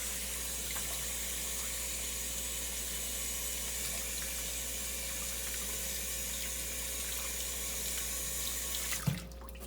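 Tap water runs steadily into a lab sink during handwashing with plain soap and water, a continuous even splash and rush with one small knock near the end.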